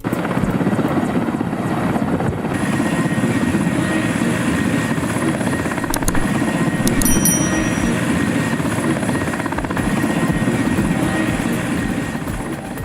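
Steady, loud helicopter rotor and engine noise throughout, a continuous thumping drone that stays close and constant, with a faint high whine.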